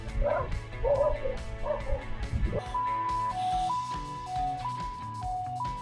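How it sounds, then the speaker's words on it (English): Several dogs bark and yelp excitedly during a chase of a 125cc scooter on a road in Taiwan. The barking bursts come close together, then give way to a steady melodic tone. "I was trying to be a busybody to check out the dogs, but end up we got chased by the dogs"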